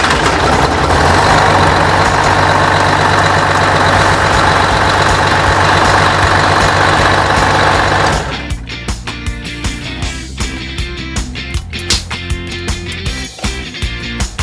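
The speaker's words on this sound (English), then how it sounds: "And the engine's cold. We haven't turned on the block heater or anything. So we'll see how she starts." A cold truck engine, started without its block heater, cranks and catches, then settles into a loud, close, steady idle with a lumpy diesel rumble and a few sharp knocks and clatters.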